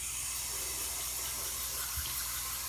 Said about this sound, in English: water in my hands, and just rinse the excess off of my face